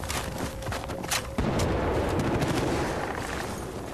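Gunfire from the video game Battlefield: Bad Company 2 rattles in dense, loud bursts, followed by a booming blast that carries on as a sustained roar.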